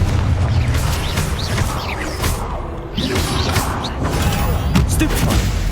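Spell blasts in a Harry Potter wizard video game: a continuous roar of crashing booms and impacts runs throughout, loud and dense, with repeated bursts around each cast.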